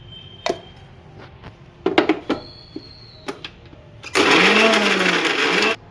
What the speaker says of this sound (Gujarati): તીખા મરચાંની પેસ્ટ કરી નાખીએ કઢીમાં નાખવા.